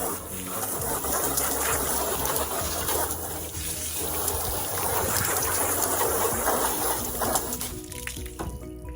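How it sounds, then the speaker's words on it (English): Water spraying onto a WeatherTech vehicle floor liner during a rinse, a steady broad hiss of running water with splashing that continues for several seconds before cutting off near the end. "Let's go ahead and rinse it off."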